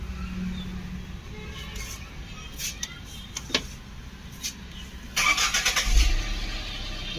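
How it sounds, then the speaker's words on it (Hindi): Tata Nexon diesel car with a check-engine light fault, the engine starting: scattered clicks and clunks, then a cranking burst that catches into a steady nearby idle. "आइए तो अपनी गाड़ी को स्टार्ट करते हैं।"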